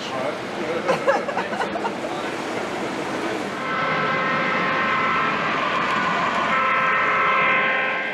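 Voices and clatter come first at a model railroad club, then a steady whirring hum of small model trains running along a track, with a high tonal whine over it.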